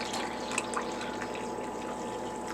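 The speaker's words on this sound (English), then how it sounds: "So I am just going to pour that real quick" Cinnamon syrup pours into a cup of hot coffee, a steady soft liquid trickle with faint drips running throughout, close and unaccompanied by talk.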